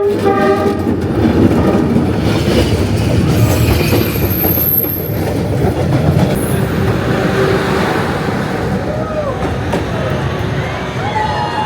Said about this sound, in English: So we just had the Hanoi train experience and it was amazing.